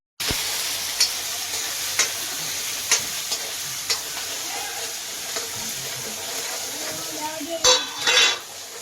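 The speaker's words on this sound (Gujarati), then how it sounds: "મસાલો વઘારાય છે." Whole spices temper in hot oil in a home kitchen as a Gujarati tadka is made, a continuous sizzle broken by sharp clinks of a spoon against the pan at regular intervals and louder stirring scrapes near the end.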